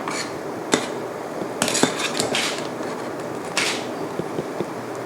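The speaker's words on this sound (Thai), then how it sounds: "ใช้กระชอนนะคะ ช้อนขึ้นมาแล้วก็มาพักไว้ในน้ำสะอาดแบบนี้นะคะ" Sago pearls scooped with a mesh strainer and set into a bowl of clean water, giving scattered light clinks and knocks of utensil against cookware with soft watery rustles in between, close by and without talk.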